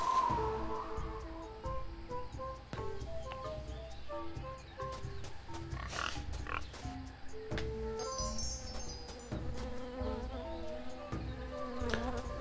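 Bees buzz in the Tales of Monkey Island video game, a soft continuous drone beneath light melodic game music and occasional clicks, with no voices.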